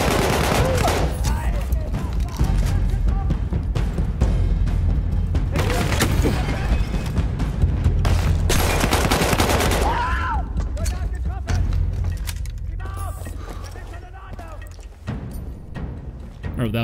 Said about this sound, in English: That was a tank or a field gun.